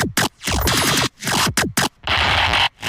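Aggressive dubstep bass bursts with rapid, sweeping laser-like zaps, loud and choppy, broken by short gaps.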